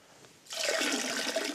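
Water is squeezed and sloshed as a sponge soaks up the last water in a toilet cistern during a Fluidmaster bottom-entry fill valve installation, giving a steady close watery rush that starts abruptly and continues to the end.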